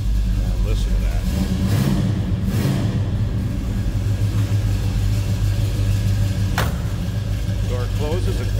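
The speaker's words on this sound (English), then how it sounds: "Nice, deep, throaty exhaust." A 1970 Oldsmobile Cutlass S with a 455 V8 runs with a deep, throaty exhaust rumble, loud and steady throughout, swelling briefly at moments, with a sharp click partway through.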